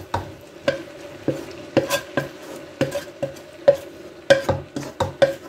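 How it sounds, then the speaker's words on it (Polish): Meat with onion goes into a pot of bigos made with cabbage and sausage, sizzling steadily while a utensil scrapes and clanks against the pot in quick, irregular strokes, close and loud with no talk. "Więc dodaję teraz mięso z cebulą."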